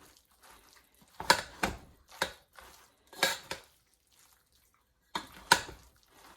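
A metal utensil stirs and scrapes breakfast burrito filling around a stainless steel pan in a few short, clattering bursts separated by quiet pauses.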